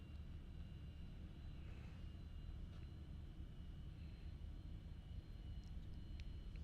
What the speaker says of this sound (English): Let's get this plane out on the runway.